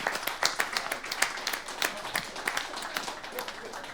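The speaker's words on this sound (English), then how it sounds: "Round of applause to our panelists," A live audience claps for the panelists at the close of an AI/ML innovations panel discussion at an expo. The clapping is dense and steady, with sharp claps standing out from the general patter for the whole stretch.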